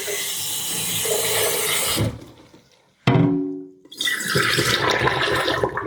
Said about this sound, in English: We'll just rinse out our water, our wastewater there a little bit.